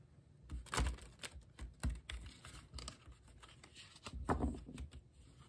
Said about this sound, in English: Let's do some shuffling first.